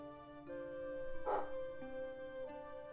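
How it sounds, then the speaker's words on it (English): A dog barks once, close and fairly loud, a single sharp bark standing out against a quiet room with a low background hum and faint tonal sounds. "No idea what she's barking at."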